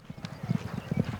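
A herd of horses on a frosty May morning in western Colorado, moving on the ground with rapid, overlapping hoof clip-clops, close and steady.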